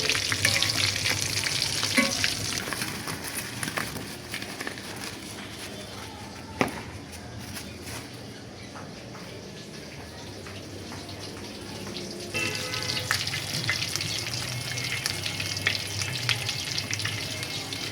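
Egg and potato chops frying in hot oil give a continuous bubbling sizzle, close and steady, with occasional clinks and stirring sounds from a utensil and no talk.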